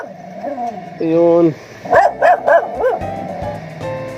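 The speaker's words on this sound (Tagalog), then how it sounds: "Kaya yung aso niya sa pintuan nakatali." A dog tied at the door of a house barks several times in a quick burst of three or four loud barks, mixed with someone speaking Filipino nearby.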